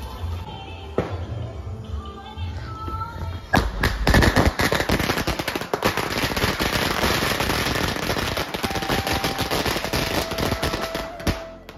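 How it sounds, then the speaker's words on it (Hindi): A long string of chatai bomb firecrackers goes off for Diwali in a rapid, continuous chain of loud cracking bangs that starts after a few quieter seconds and rattles on to the end. "अभी इस चटाई बम को बिछाने वाले और पूरा एरिया में धमाका मचाने वाले हैं।"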